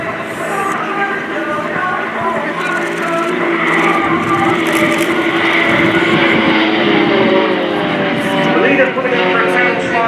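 Royal Jordanian Falcons aerobatic display aircraft roll out of an inverted entry and run in at an airshow. Propeller engine drone stays loud and steady throughout, with a commentator talking over the flypast.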